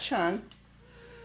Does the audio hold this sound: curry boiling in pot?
no